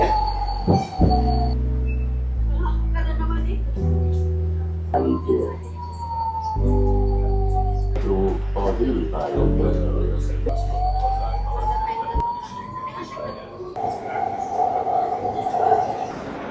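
A train rolls into a station in Budapest, Hungary, close by, its deep rumble joined by squealing wheels and sustained horn-like tones, with a steady din throughout.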